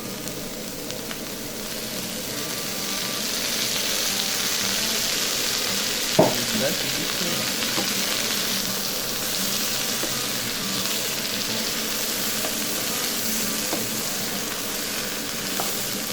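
Vegetables and peas frying in a little oil in a pan, giving a steady close sizzle throughout with one brief knock partway through.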